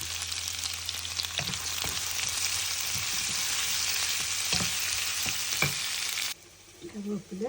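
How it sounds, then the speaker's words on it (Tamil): Chopped onions fry in hot oil for a green plantain sambal, giving a steady, close sizzle with occasional stirring knocks before the sound drops away near the end. "எண்ணெய் நல்லா கொதிச்சுட்டு வெங்காயத்தை போடுவோம்."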